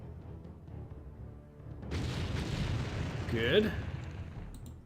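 An artillery piece is destroyed in the Empire Earth strategy game, a rumbling explosion rising out of quiet and swelling into a fuller blast, with a voice speaking briefly.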